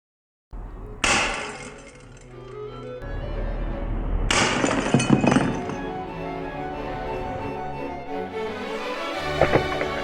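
Steel BB shot fired at a new glass jar: two loud, sharp impacts a few seconds apart, each bursting into bright shattering glass, followed by a sustained clatter and tinkling of falling shards.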